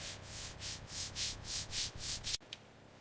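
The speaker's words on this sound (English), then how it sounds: "Silky sanding strokes, shaping the body back to perfection." Body filler on a Lamborghini supercar body being restored is sanded by hand in about nine quick, even back-and-forth strokes, soft and close, ending in a sharp tap.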